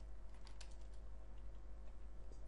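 An SQL query is typed on a computer keyboard, heard as a fast run of close, light key taps over a constant low hum.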